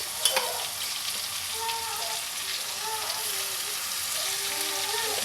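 Garlic paste sizzles and fries in hot oil in a pan while being stirred, a steady crackling hiss with occasional scraping, under a faint voice.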